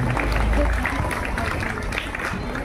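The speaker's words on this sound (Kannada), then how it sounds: "ಜೋರಾದ ಚಪ್ಪಾಳೆ ಮುಖಾಂತರ ಅವರನ್ನು ಪ್ರೀತಿಂಬಿಸೋಣ." Clapping from the audience at a Karnataka Rajyotsava school event, a steady patter of many hands with low room noise underneath.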